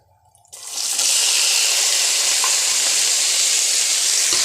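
Chopped onion and garlic hit a hot pan over toasted cumin, bursting into a loud, steady sizzle right after a brief quiet start and staying bright and even throughout.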